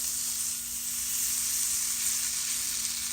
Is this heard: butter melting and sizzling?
yes